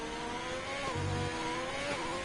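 Onboard race car engine from a racing video game during a qualifying lap in Brazil, a steady sustained drone with a slight pitch rise midway, continuous and close throughout with no voices.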